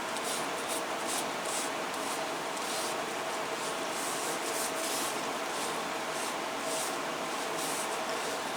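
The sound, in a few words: rubbing second coat of finish onto leather holster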